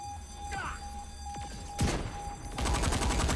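A rubber band gun fires in the video game Saints Row IV: a few separate snappy shots, then a rapid string of repeated pops over a steady in-game tone.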